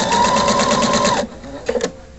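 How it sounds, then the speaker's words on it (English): A sewing machine stitches along piping cord in a fast, even mechanical whir for about a second, then stops, followed by a couple of brief clicks. "Continue stitching along."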